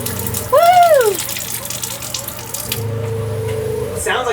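A newly installed tap in a boat hull runs at strong pressure, a steady gushing rush of water that fills the clip, with a brief whistling squeal near the start and talk mixed in faintly.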